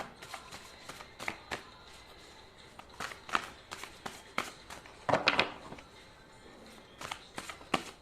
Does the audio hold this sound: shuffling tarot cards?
yes